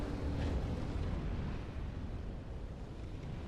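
A deep, sustained rumbling roar of an explosion in the video game Dark Souls 3, broad and heavy in the low end, fading slightly but continuing without a break.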